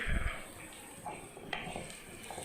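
Asafoetida is stirred in hot oil for mango pickle with a metal spoon clinking and scraping against the pan in a few quiet, scattered strokes, with a faint sizzle underneath.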